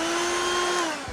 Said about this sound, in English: So I'm gonna go ahead and drill a little bit into the deck carefully.